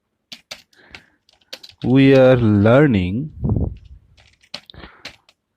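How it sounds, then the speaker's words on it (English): Someone types on a computer keyboard while working in an OpenOffice word processor, producing scattered, crisp key clicks. The clicks come before and after a brief spoken phrase in the middle. "Like here I am typing, hi there,"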